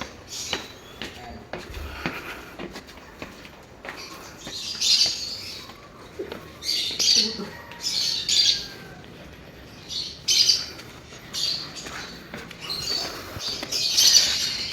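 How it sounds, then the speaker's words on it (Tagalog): Scattered bird squawks and chirps ring out every second or two over a low outdoor background, with occasional rustling and distant voices. "Ayun, naririnig ko, no, mga ibon."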